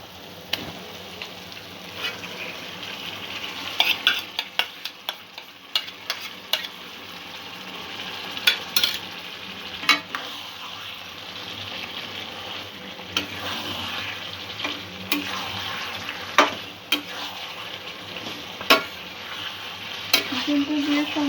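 Chicken pieces get stirred into spiced masala in a hot pan for a chicken curry, with a steady sizzle broken by repeated scraping and clacking strokes of the spoon.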